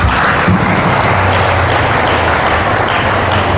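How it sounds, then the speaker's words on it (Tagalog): Congregation at a church gathering in Parañaque clapping loudly, a dense, continuous rush of many hands filling the room, steady and close with no pauses. "pumalakpak ng malakas"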